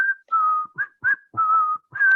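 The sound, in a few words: whistled tune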